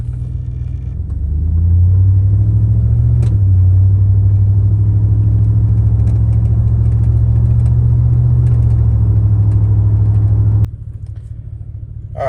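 A Chevy Silverado pickup truck engine rumbles loudly up close while driving, revving up after a moment, then holding a steady low drone before dropping off near the end.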